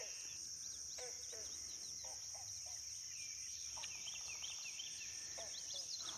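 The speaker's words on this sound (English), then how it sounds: "There's a lot of birds." Birds call intermittently outdoors, short chirps and trills scattered over a constant high insect drone, fairly faint and distant, with no talking.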